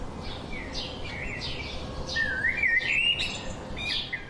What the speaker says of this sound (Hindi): ये इन परिंदों की चहकारें हैं